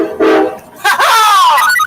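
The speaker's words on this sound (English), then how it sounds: "trying to get trains to play the honking game" A CSX freight train horn honks in two loud, close blasts, a short one followed by a longer sustained call that bends slightly in pitch.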